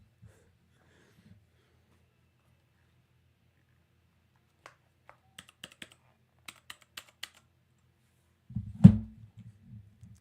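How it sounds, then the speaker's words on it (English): Computer keyboard keys tapped in a sparse series of faint, close clicks, followed by a louder breathy snort-like sound near the end, with no talk. "Why is my keyboard not working?"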